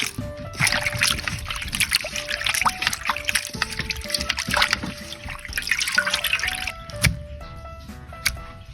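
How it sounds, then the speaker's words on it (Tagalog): Pork being rinsed under running water while cooking Bicol Express, a steady close trickle and splashing of water over meat with small drips, continuing for several seconds without talk. "Banlawan natin yan."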